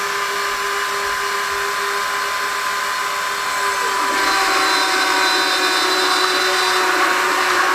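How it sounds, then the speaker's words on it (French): A Dremel rotary tool on a mini CNC machine, started by the program and milling with a new bit: a steady high motor whine that grows louder and harsher partway through as the cutter bites, continuous and close. "on a bien vu hein, le système de régulation du Dremel, hein, le petit démarrage automatique"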